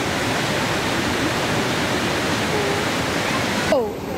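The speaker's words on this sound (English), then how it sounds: "We're at the waterfall." A waterfall roars as steady, loud, broadband rushing water that fills the whole scene from start to finish, ending with a brief faint voice.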